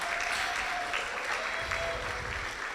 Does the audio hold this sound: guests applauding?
yes